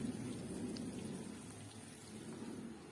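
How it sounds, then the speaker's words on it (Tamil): Heavy rain pours outside during evening cooking as an even, continuous hiss. The patter is fairly soft and steady for a few seconds, with no one speaking. "பாருங்க, ரொம்ப மழையா இருக்கு,"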